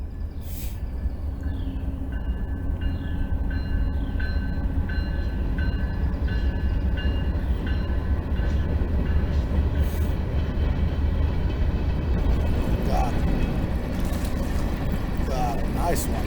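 A train rumbles past continuously at close range along railroad tracks beside a fishing spot, a heavy steady roar with clattering wheels and a faint horn toward the end.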